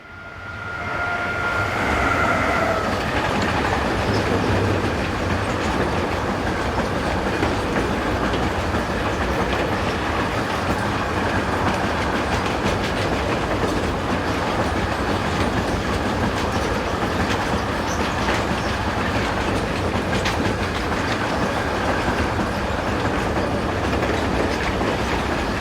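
A freight train hauling covered car-transport wagons from München to Bremen on the Northeim–Hannover main line passes close by, with sustained loud rumble and rhythmic clickety-clack of wheels over rail joints for the whole stretch.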